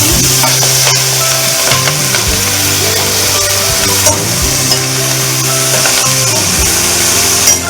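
Curry leaves and ponaganti greens dropped into a hot pan with moong dal fry, a loud continuous sizzle and crackle close up, with scraping stirs of a spoon against the pan.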